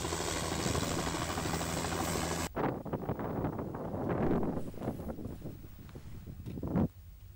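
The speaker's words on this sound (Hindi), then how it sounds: "हेलीकॉप्टर ने उड़ान भरी और इस क्षेत्र के करीब 12 से ज्यादा गांव में केमिकल का छिड़काव किया गया" A helicopter taking off from a helipad to spray chemicals over more than twelve villages, heard as a steady loud rotor and engine drone that cuts off abruptly, followed by gusty wind and rustling noise.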